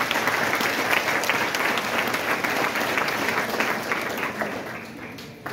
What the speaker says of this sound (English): I would like to take this time to applaud our support systems.